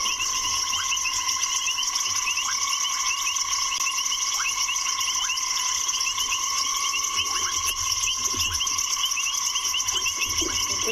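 A dense chorus of frogs croaks loudly and without pause at night in the South African bush, layered with steady insect trills and no voices.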